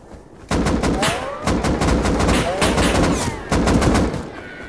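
Loud, sustained automatic gunfire from the video game Rust, with rapid overlapping bursts that run almost continuously for several seconds and sharp cracks throughout.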